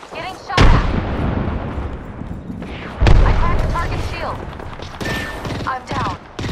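Gunfire in the Apex Legends battle royale video game: two loud sharp bursts stand out over a busy mix of game effects, while a voice talks throughout.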